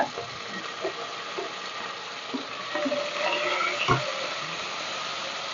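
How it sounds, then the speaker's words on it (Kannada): Onions, green chillies and curry leaves frying in a pan, a steady close sizzle with occasional stirring scrapes and a louder crackle near the end. "ಫಸ್ಟ್ ಈರುಳ್ಳಿ ಹಾಕ್ತಾ ಇದ್ದೀನಿ ಆಮೇಲೆ ಹಸಿಮೆಣಸಿನ್ಕಾಯಿ ಕರ್ಬೇವಿನ ಸೊಪ್ಪು ಹಾಕ್ತಾ ಇದ್ದೀನಿ"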